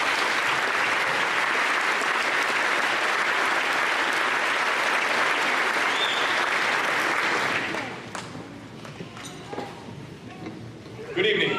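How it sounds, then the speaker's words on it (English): Loud, sustained applause from a large crowd at the 2019 St. Croix Central graduation ceremony, filling most of the clip before fading sharply into quieter room noise near the end. "How about another round of applause for this excellent group?"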